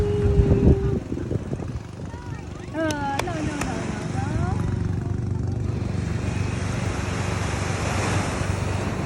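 Ocean waves wash steadily onto a beach, a broad continuous roar of surf with wind noise, while people talk and a voice calls out over it in the first few seconds.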